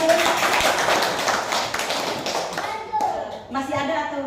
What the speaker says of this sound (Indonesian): Kita tepuk tangan kita semua